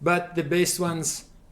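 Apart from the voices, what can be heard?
No distinct noise like a dog, phone or traffic.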